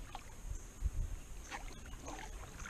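Kayak paddle strokes through a reservoir carpeted with green aquatic plants, soft splashes and swishes repeating at an easy pace, faint and close with light background hiss.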